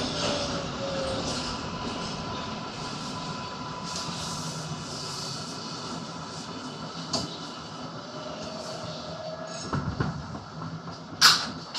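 A New York subway 4 train bound for New Lots Avenue in Brooklyn, heard from inside the car as a steady loud rumble and roar of wheels on track, with a few clanks and a sharp squeal near the end.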